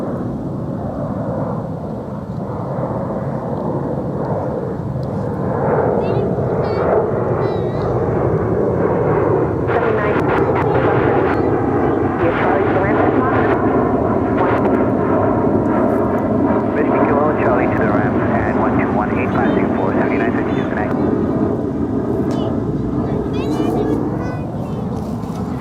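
An American Airlines airliner lands on runway 36 left at Dallas-Fort Worth airport, its engines a long, loud, swelling roar, with radio talk heard alongside.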